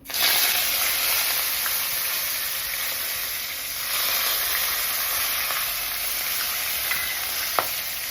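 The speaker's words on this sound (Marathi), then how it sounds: "त्यानंतर आपल्याला कढीपत्ता आणि मिरची अशी उभी कापून घेतलेली आहे ती टाकायची आहे." Curry leaves and lengthwise-slit green chilies hit hot oil with a sudden loud, hissing sizzle that holds steady and close, with a brief surge midway and a few sharp pops near the end, no voices.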